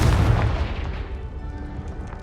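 A Confringo fire spell bursts in Hogwarts Legacy, a loud booming blast at the start whose rumble fades away over the next two seconds.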